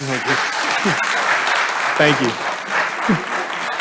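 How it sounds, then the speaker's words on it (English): A room full of people applauds at a planning and zoning board meeting, with steady clapping throughout as someone speaks briefly over it. "No applause, please."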